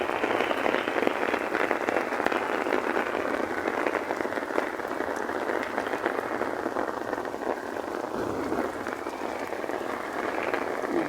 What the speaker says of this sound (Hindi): दूर दूर तक धुंध और शदीद किस्म की बारिश हो रही है।